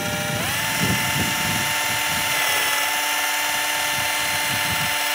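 A drill set on its second speed spins a spool to wind fishing line from an ACE D-Spooler, a steady high whine that rises in pitch at the start, with rhythmic rustling of line underneath and no talking.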